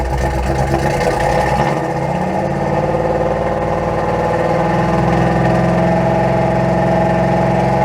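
A car engine fitted with Holley Sniper EFI runs at a steady idle, loud and close, with a brief dip in the low rumble early on before settling into an even drone.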